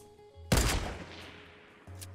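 Enemy gunfire in the Fortnite battle royale game: a loud, sudden burst of shots that fades into a long echoing tail, with no talking.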